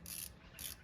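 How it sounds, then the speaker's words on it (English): A torque spanner ratchets while tightening bolts on a Honda Prelude engine during valve cover work, with two quick, faint clicking bursts about half a second apart. "So I've got my torque spanner."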